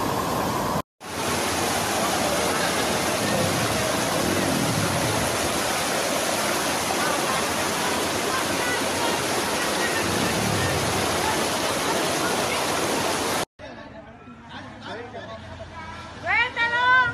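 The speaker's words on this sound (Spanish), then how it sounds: "A los que no conocen el famoso salto de la Hervedera" Roaring rush of a flooded waterfall, the Salto de la Hervedera in the Dominican Republic, a loud steady broadband torrent that stops abruptly near the end, followed by faint voices and ambient sound.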